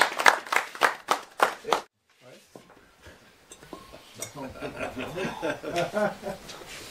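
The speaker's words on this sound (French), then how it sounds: "Donc on applaudit Guy" A hunting party in the bush applauds a companion, with a few sharp claps up front, a pause, then mixed chatter and laughter with clinking like dishes or cutlery.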